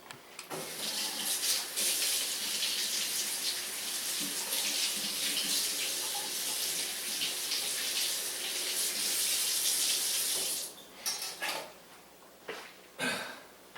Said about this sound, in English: I'm just going to give it a quick rinse